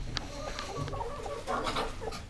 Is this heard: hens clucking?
yes